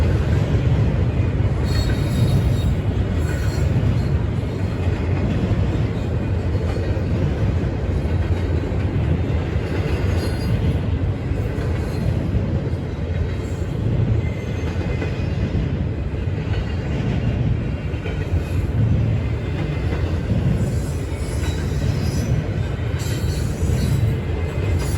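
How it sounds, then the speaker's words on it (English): 24M priority intermodal freight train with J.B. Hunt double-stack cars passing close by, a steady loud rolling rumble of wheels on rail with faint squeals and clatter, continuous for the whole stretch. "24M, a priority intermodal train from Chicago, Illinois' 63rd Street Yard to Bayview Yard in Baltimore, Maryland."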